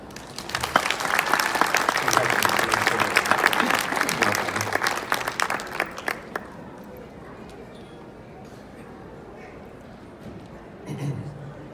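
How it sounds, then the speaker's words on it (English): Audience applause at a 2019 creative industry award ceremony, dense clapping from a large crowd that swells for about six seconds, then thins into scattered claps and fades, with a voice rising briefly near the end. "How about one more round of applause?"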